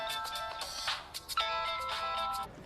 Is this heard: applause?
no